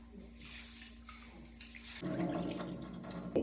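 Rice is washed in a vessel of water, with soft, low swishing and sloshing. The sound grows busier and splashier over the last second or so, and there is no speech.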